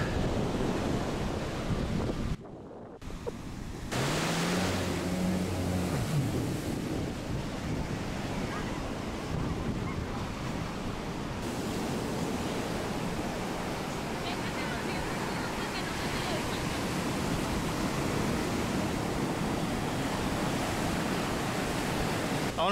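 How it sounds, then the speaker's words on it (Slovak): Ocean waves break continuously on a beach in Cancún, Mexico, a loud, steady wash of surf with heavy wind buffeting the microphone throughout. "Takéto vlny sú tu stále"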